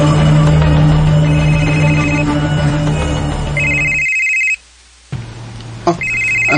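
A cellphone ringtone plays loudly in a repeating electronic melody, cuts out briefly to near silence, then resumes, set in a Filipino drama scene.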